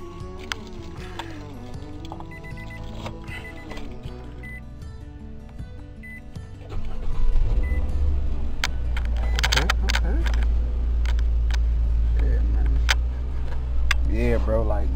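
A brand new car's engine cranks and fires up partway through, settling into a loud low rumble that continues as someone talks over it, with clicks and rustling before the start.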